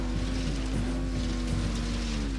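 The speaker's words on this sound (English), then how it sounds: "I'm hearing engine noise." A vehicle engine in the video game Ghost Recon Wildlands drones steadily and loudly throughout, a continuous low mechanical hum with slight wavering in pitch.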